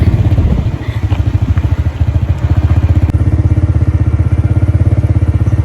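A motorcycle engine runs close and loud in a steady, rapid thumping rhythm, with a slight dip in revs before settling into an even chug, no voices.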